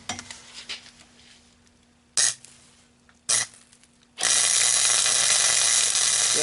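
Wire welding new flanges onto an exhaust pipe: two short crackling bursts, then a sustained loud buzzing hiss from about four seconds on, after quieter clinks and shop hum.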